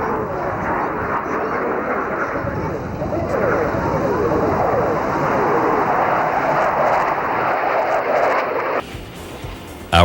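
Blue Angels jets roar continuously overhead during a stack roll at an air show, a sustained loud engine drone with a voice talking over it.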